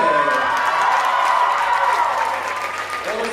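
A studio crowd claps and cheers for a contestant named Kakashi at a dating-game show, loud and continuous, with whoops and shouts over the dense applause, which eases slightly toward the end.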